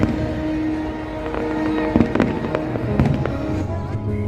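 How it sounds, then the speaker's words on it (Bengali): Fireworks at Dubai's Global Village at night: a run of sharp bangs and crackling bursts, with several loud pops near the middle and the end over a busy crowd murmur. "রাত্রি 9টার সময় এখানে ফায়ার ওয়ার্কস হচ্ছে"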